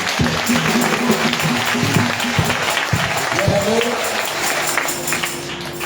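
A church congregation applauds loudly and steadily during a worship service, the dense clapping mixed with crowd voices and singing throughout.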